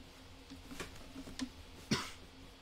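A single sharp cough bursts out near the end, after a couple of softer, fainter sounds, over a low steady background hum in a quiet room.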